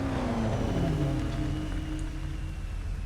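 A Corvette Z06 in the racing game Need for Speed Carbon drones loudly and close, its engine note sweeping down then climbing steadily under a constant hiss, with no voices.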